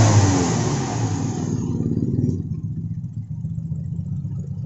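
A Toyota Innova's 1TR engine with a misfire revs up loudly at first, then settles back to a lower, uneven running rumble that carries on to the end.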